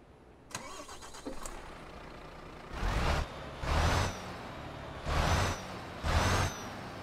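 A Volvo FM Classic truck in Euro Truck Simulator 2 starts up: a few clicks and a short crank, then four loud, evenly spaced bursts of engine rumble with air hiss between them.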